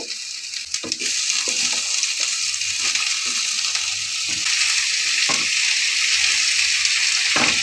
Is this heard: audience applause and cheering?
no